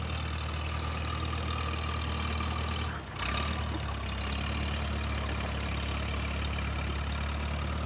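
A propane-fuelled Minneapolis tractor engine idles with a steady low, rumbling throb close by, broken by a brief dip near the middle before the even idle carries on alone.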